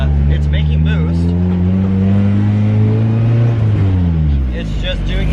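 Loud, close turbocharged drift car engine building boost, its strong harmonic drone rising steadily in pitch before dropping sharply near the end, with talking and faint whistling overtones on top.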